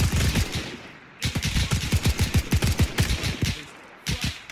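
WWII paratrooper gunfire in the video game Arma 3: loud, close bursts of rapid automatic fire, with a rhythmic string of shots broken by brief pauses, and no one speaking.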